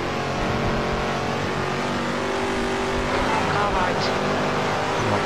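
Shelby 427 Cobra engine in the Assetto Corsa racing game at Vallelunga, a loud, continuous, rough engine roar held steady throughout with no pauses.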